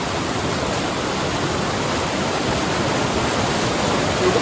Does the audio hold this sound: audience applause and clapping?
no